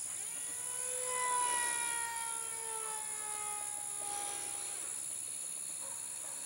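A Red Shift II mini hotliner RC plane at full throttle on a tiny battery: a high, steady motor whine with falling pitch sweeps as it passes, loudest briefly before easing into a sustained distant drone, no talking.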